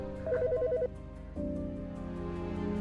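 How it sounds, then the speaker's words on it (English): A phone rings in the Autopsy Simulator video game with a bright, pulsing ringtone of two alternating tones, then shifts to a steadier sustained tone pattern, close and clear with no voices. "The fucking phone."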